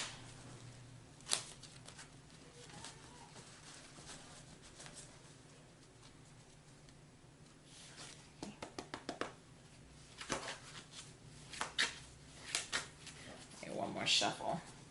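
Bursts of tarot cards being shuffled, quick riffling clusters of soft clicks and flutters, close by, with quiet talking in between.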